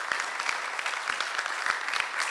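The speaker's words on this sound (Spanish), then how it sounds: "Por favor, un aplauso." An audience at a labour law conference in Puerto Montt claps steadily, a dense, even patter of many hands that carries on without a pause.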